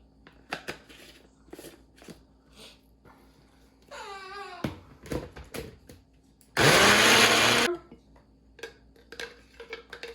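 A kitchen blender whirs loudly for about a second while mixing a spicy mashed potato mixture, surrounded by clinks of utensils and container handling, and a short scraping whine beforehand.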